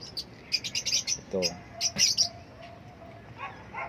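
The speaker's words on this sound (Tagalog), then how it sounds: "Ito yung mga ibon natin naghintay. Ito nag-ingay na, hinahingi ng pagkain." Pet birds, including some cooing doves, chirp and tweet in quick clustered bursts as they call for food. A voice speaks briefly among them.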